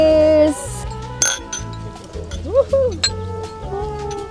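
Glasses clinking together in a celebratory toast, a few bright clinks amid a cheerful exclamation, with background music playing throughout.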